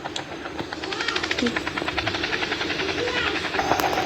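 A helicopter starting up in a video game, a rhythmic chopping rotor pulse with a thin whine underneath, steady and fairly close.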